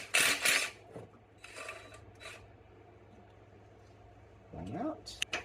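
A socket wrench ratchets on an EGR valve bolt of a 1975 Plymouth Duster, giving bursts of close, rasping clicks at the start and again near the end. A voice talks in between.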